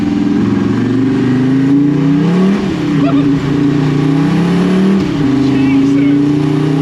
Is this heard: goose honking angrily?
no